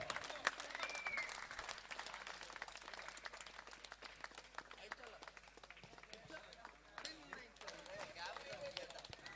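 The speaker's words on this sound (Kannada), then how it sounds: "ಜೋರಾದ ಒಂದು ಚಪ್ಪಾಳೆ ಬರಲಿ" Crowd applause at a cricket tournament trophy presentation, scattered and fairly faint, with uneven claps continuing throughout amid background voices.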